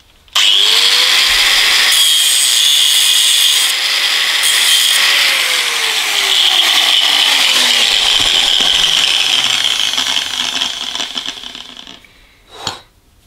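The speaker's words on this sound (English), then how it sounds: "use an angle grinder to turn the head back into a flat-headed" An angle grinder grinds a screw head flat, a loud continuous high-pitched whine running for about eleven seconds with the motor pitch sagging under load, then winding down and ending with a short clunk.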